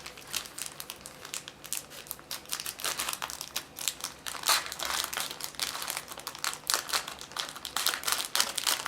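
A plastic bag holding grey plastic sprues from an Eduard 1/48 Yak-1b model kit being opened, with steady close crinkling and crackling throughout and no talk.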